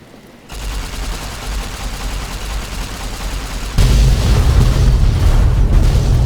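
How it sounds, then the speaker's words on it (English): Nuclear warheads detonated by a laser detonator in Fallout, a sudden heavy explosive roar that kicks in after a quiet start, then swells into an even louder rumbling blast, no talking. "Detonates the nuclear warheads."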